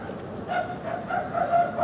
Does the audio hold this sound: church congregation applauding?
no